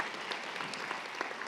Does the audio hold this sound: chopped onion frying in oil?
no